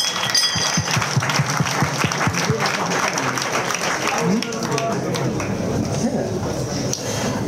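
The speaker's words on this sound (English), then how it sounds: "A round of applause for our winners tonight." An audience applauds winners at a pitching event, a dense wash of clapping that holds for several seconds, with voices murmuring underneath.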